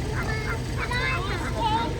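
Ducks quack and honk in a busy outdoor setting, calls overlapping steadily with people talking nearby throughout.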